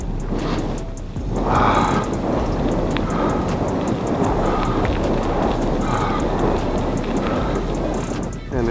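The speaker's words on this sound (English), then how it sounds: "And this rain has somewhat settled" Steady rain hisses densely and loudly throughout on a downhill outdoor trail, a continuous wash of noise with no break.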